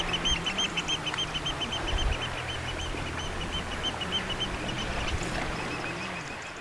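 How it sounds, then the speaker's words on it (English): Shrill, piping calls of oystercatchers on coastal rocks at Lundy in the Bristol Channel, repeated in rapid runs throughout over steady wind and sea noise, fairly near. "The rocks down here are much favoured by noisy oyster catchers. You'll often hear their shrill calls before you actually see the birds."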